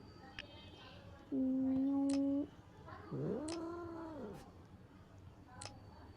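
A voice imitates a cat, giving a flat, drawn-out mew followed by a longer wavering meow that rises and falls, fairly quiet, with faint clicks from a mobile game in the background.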